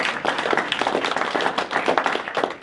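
A crowd at a Prescott Indivisible community meeting claps steadily and loudly, a dense, even patter of many hands that holds for a few seconds with no talking.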